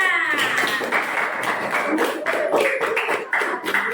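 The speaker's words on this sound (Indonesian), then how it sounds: "tepuk tangan buat kelompok 5" Classroom applause for group 5 in a sixth-grade science lesson, a burst of many children clapping together for a few seconds in a reverberant room.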